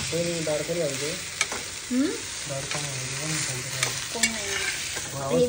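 Food fries in a pan, cooked on both sides, with a steady close sizzle and occasional sharp pops. A faint pitched whine drifts in and out underneath, and there is no speech.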